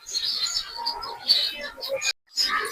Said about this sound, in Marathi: खूप पक्षी आहेत तिकडे आवाज येतोय